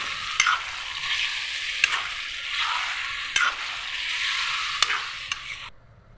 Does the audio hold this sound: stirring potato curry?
yes